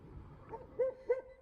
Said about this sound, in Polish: Piesek nie daje za wygraną